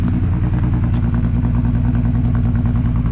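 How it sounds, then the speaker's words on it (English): A Volkswagen Passat R36 engine idling steadily at close range with a misfire, its throbbing rhythm slightly uneven with occasional stumbles. "Now it's got a bit of a misfire, but it sounds incredible."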